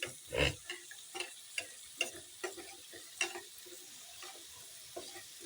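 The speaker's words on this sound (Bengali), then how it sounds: "আলুটা এখন ভালো করে ভাজা হোক" Potatoes frying in a pan, with a quiet sizzle under repeated light taps and scrapes of a spatula at an uneven rhythm, close and faint, with no voices.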